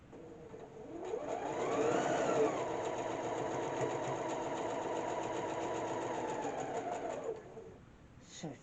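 A sewing machine runs steadily for about six seconds while stitching an anchoring stitch across a quilt block for a purple star pattern. The motor hums evenly at moderate loudness, then stops, and a brief click follows.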